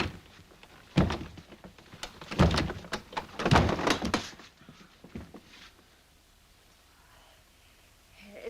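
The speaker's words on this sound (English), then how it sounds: "Can you break down the door?" Heavy blows against a wooden door as it is forced open in a 1945 period film drama, three loud thuds spaced about a second apart, followed by quieter knocks and settling sounds, with no talking.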